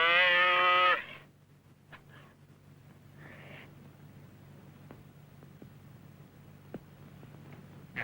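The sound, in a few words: calf mooing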